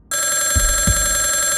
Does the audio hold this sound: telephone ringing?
yes